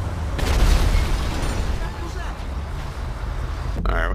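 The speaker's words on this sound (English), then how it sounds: "I hear explosions, I guess it's over there." Explosions rumble through the GTA 5 game world, a sustained low booming roar with a loud burst near the start and a sharp crackle at the end, under steady game noise.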